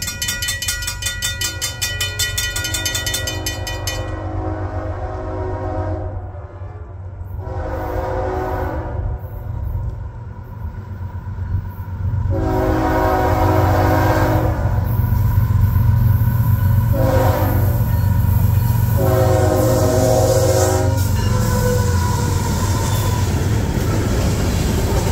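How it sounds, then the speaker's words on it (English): A newer D&H freight train rumbles closer through Bainbridge, New York, growing louder, its horn sounding in several long blasts, with wheels clattering on the rails. "one of the newer trains on the D&H fast approaches Bainbridge"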